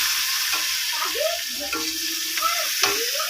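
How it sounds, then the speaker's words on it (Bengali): Onions frying in a pan give a steady hiss of sizzle, with a few quiet scrapes and stirs and faint voices or kitchen sounds in the background. "এটা পেঁয়াজ ভাজা হচ্ছে"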